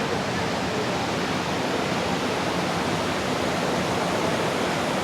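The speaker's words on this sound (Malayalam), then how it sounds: "ഓ എന്നാ ഫോഴ്സിലാണ് വെള്ളം പോകുന്നത്" Water of the Kaveri river gushing through open dam shutters, a steady, loud, unbroken roar of rushing water with no talk over it.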